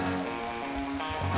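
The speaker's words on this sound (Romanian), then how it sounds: "Aștept să se ducă ploaia." Rain falls steadily through an evening, a continuous dense patter on surfaces that stays even and fairly close with no voices.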